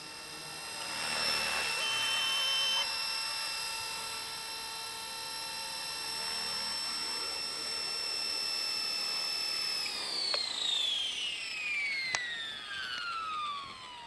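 A Blade 230S V1 RC helicopter flies in a park, its steady high-pitched rotor and motor whine holding level, then dropping in pitch as it passes and moves away, with no talk.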